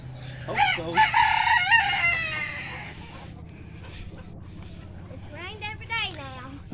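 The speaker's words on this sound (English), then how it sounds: "In the chicken coop." A rooster crows loudly nearby in a chicken coop, then chickens cluck and another crow follows later, with people talking in the background.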